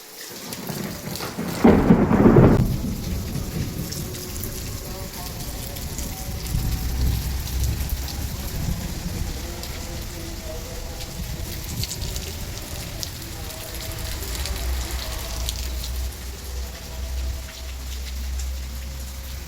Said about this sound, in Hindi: एकदम से बारिश शुरू हो गई और बिजलियाँ भाई कड़कड़ी शुरू हो गई थी।